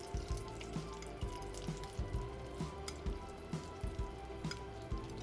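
Marinated brinjal pieces shallow frying in a little oil with curry leaves, giving a steady close sizzle broken by repeated low thumps and clatters from the pan.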